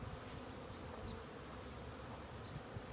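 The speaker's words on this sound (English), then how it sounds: "there are lots of bees on the top" Honey bees in an open wooden beehive during the nectar flow make a dense, steady, close buzz with no pauses, alone and without talk.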